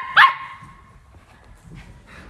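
A puppy at play lets out one sharp, loud bark up close, followed by quiet scuffling and faint movement.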